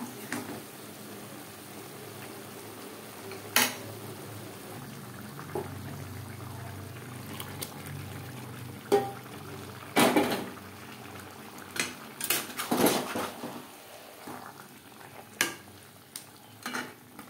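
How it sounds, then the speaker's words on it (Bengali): Marinated chicken stirred with spices in a pan over high to medium flame for aloo chicken curry: faint frying under scattered clinks and scrapes of a spoon against the pot, with a few louder knocks. "চিকেন বেশ ভালো করে মিক্সড করে দেব।"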